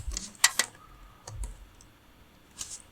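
Scattered keyboard clicks while writing code, a few sharp keystrokes in two short bursts with quiet gaps, close and moderately loud, no talking.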